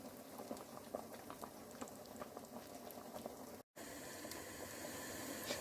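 Okra sauce simmers on very low heat, a faint, constant bubbling patter with soft pops throughout and a brief gap of silence partway through.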